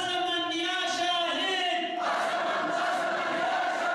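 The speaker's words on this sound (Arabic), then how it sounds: "هتافات وشعارات رددها أبناء الجوف" Crowd of men from Al-Jawf chanting slogans together at a revolutionary protest rally, a sustained, dense roar of voices in unison that holds steady and loud throughout with no pauses.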